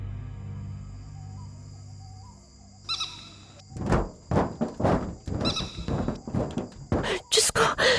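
A large bird lands on a tin roof as a sound effect: a low, steady hum gives way to heavy thuds and loud, rattling metallic bangs that keep clattering to the end.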